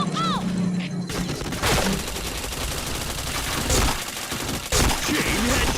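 Gunfire in a video game: quick bursts of shots and rattling rounds over a constant game background, with voices talking in between.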